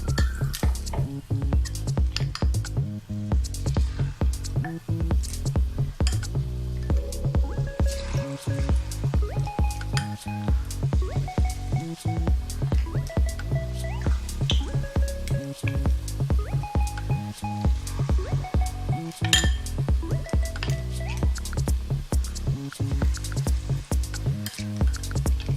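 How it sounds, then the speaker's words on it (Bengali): Marinated fish pieces fry in hot refined oil for Kolkata-style chilli fish, crackling with a dense continuous sizzle and sharp spattering pops throughout, close by, with no talking. "এবার ম্যারিনেট করা মাছটা 1 ঘন্টা পর বার করেও এনেছি, আস্তে আস্তে আমি এই গরম তেলের মধ্যে দিয়ে দিলাম।"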